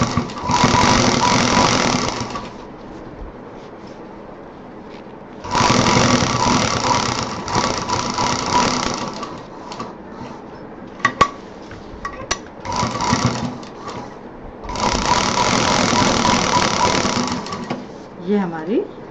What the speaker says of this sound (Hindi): और इसको भी दूसरी तरफ से सिल देंगे।